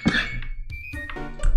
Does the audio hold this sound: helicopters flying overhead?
no